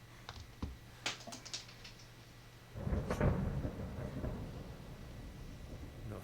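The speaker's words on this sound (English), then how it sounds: "Not afraid of thunderstorms," Thunder rolls in a stormy video game scene, with a few sharp ticks and clicks early on, then a loud rumbling burst that swells and stays heavy for several seconds.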